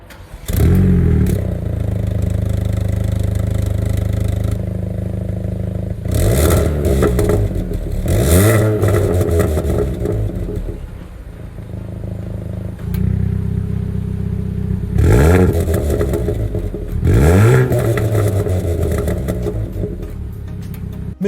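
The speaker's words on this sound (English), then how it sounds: "the exhaust, which I'll let you hear now" A Hyundai i20N's exhaust barks through repeated sharp throttle blips, each rev rising and falling quickly over a steady idle burble, loud and close with pauses of idle between bursts.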